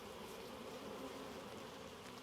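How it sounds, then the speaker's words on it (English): Honey bees buzz in a steady, dense drone while being brushed off a comb during a hive inspection and honey harvest, the hum continuous and close with no gaps or voices. "Go, bees."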